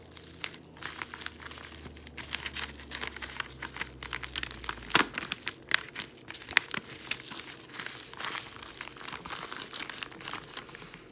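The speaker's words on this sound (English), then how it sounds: "And now I'm going to fold it over." A homemade poly mailer shipping envelope being folded over and rubbed down, close crinkling and crumpling plastic with sharp crackles and rustles in irregular bursts.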